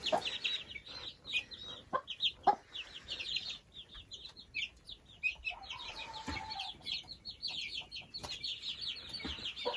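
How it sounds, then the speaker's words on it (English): Meat chicks in a brooder keep up a busy chorus of high, rapid cheeps and soft clucks, close and constant, with an occasional louder call breaking through. "The meat chicks seem quite happy."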